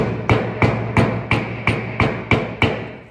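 Eight sharp metallic hammer strikes at an even pace during a Ford Fiesta rear wheel bearing replacement, each ringing briefly before the next blow, close and loud with no voices.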